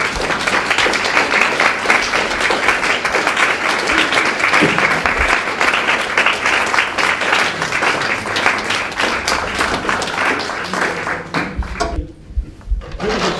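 Sustained audience applause after a solo performance, dense rapid clapping that holds strong for most of its length, then thins out and fades to scattered claps at the end.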